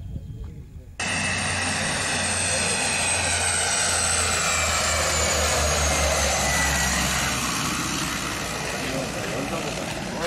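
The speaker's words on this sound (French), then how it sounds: "Mon avion arrive." Propeller airplane arriving at a small jungle airstrip by the Rio Sidra in Panama, a loud sustained engine drone that swells in abruptly after a second and holds steady, with pitch slowly sliding as it passes close.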